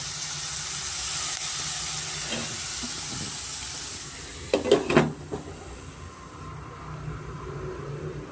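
Mixed vegetables for vegetable avalakki frying in oil in a pan on a medium flame, a steady close hiss and sizzle with a few sharp clatters of utensils near the middle, no voices.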